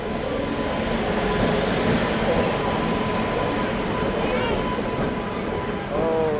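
A packed passenger train rolls into a station, its loud, steady rail rumble building, with a brief metallic wheel squeal near the end as it slows.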